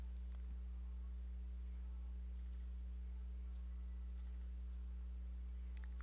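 Several light computer mouse clicks sound in quiet, scattered pairs over a steady electrical hum, with no talking.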